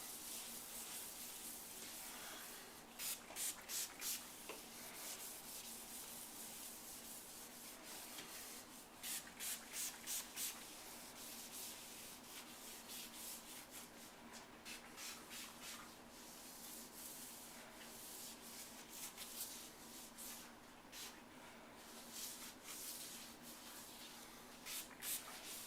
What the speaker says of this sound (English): Make sure when you're doing the edges you roll and get the edges very well